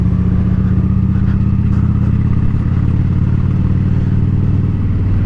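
A motorcycle engine drones loudly and steadily up close while riding off in low gear, a constant low rumble with faint mechanical clatter and a subtle shift in pitch partway through.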